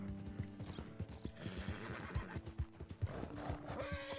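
A horse in Red Dead Redemption 2 clip-clops at an uneven gait with rhythmic hoofbeats, creaking tack, and a whinny near the end, all close and clear.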